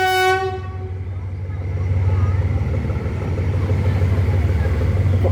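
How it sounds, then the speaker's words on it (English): A train crossing the Bridge on the River Kwai sounds a fading horn, then rumbles and clatters steadily across the span, growing louder and closer. "Even got the trains turned up."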